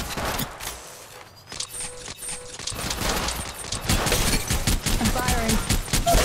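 Rapid bursts of gunfire from the mobile battle-royale game Apex Legends Mobile, dense and continuous through the clip with mechanical clatter and game effects layered beneath.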